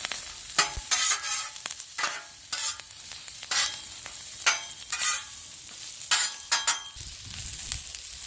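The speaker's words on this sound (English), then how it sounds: "We're going to get some chilies going." Chilies frying in a little oil on a Camp Chef Explorer two-burner stove griddle, a steady close sizzle broken by repeated scraping and stirring strokes, with no talking.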